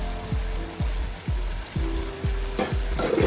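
Peas sizzle and fry in a hot pan while a spoon stirs them, the steady crackle broken by regular scraping strokes about twice a second, close and clear with no talk.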